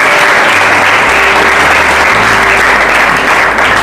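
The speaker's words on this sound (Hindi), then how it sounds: "अरे तो ताली बजा रहे हो तो पूरा बजाओ" Loud, continuous clapping from a congregation during a Hindi-language church sermon, filling the room evenly for several seconds under a low steady hum.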